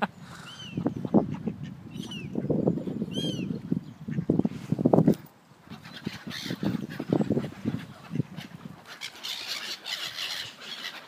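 Ducks, geese and swans honk and quack at a reservoir, a noisy flock calling repeatedly close by, with bursts of overlapping squawks and a short lull partway through.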